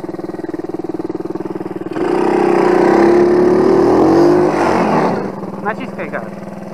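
Quad ATV engine stuck in mud, idling with a lumpy pulse before revving hard for a few seconds and dropping back to idle, loud and close, with people talking nearby.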